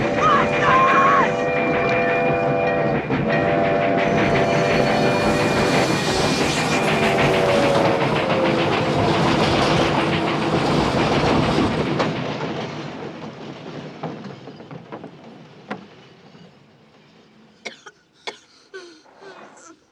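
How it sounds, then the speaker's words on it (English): A train rumbles past on railway tracks in a film scene, loud and close with a rattling clatter of wheels and a blaring horn tone, then fades away over several seconds, leaving scattered faint knocks and shuffles. "at least now we know when the next train was due"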